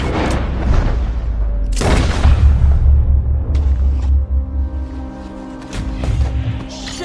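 A gunshot in Red Dead Redemption 2, loud and booming with a heavy rumbling tail, followed by a second blast and lingering low ambience with no talk.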